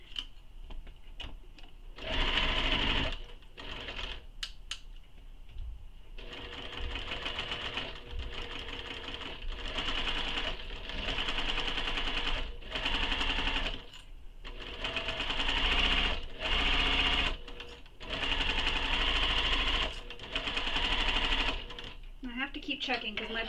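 A sewing machine stitching a seam on a Colby sling pack, running in several loud bursts of rapid mechanical whirring separated by brief pauses, with a voice talking in between.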